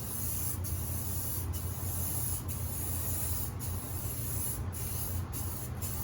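Steady hissing spray from a Krylon spray paint can painting a truck grille, running continuously with a few brief pauses, close to the microphone.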